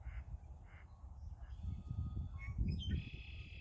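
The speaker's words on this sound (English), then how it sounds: "some ducks out on the pond there. You can hear them." Ducks on a pond give a few soft quacking calls at a distance over a low rumble of outdoor background noise, with no one talking.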